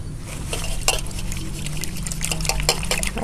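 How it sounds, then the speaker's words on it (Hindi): Pumpkin leaves are washed by hand in a vessel of water, with close sloshing, splashing and trickling sounds and occasional clinks of the pot, continuous throughout. "पानी डाल दी हूँ, इसको अच्छे से धो लेती हूँ।"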